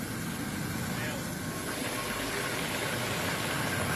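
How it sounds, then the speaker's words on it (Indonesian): A military helicopter holds low altitude during an aid drop in strong wind, producing a loud, continuous engine and rotor drone that stays steady and close throughout. "helikopter melakukan manuver presisi pada ketinggian rendah"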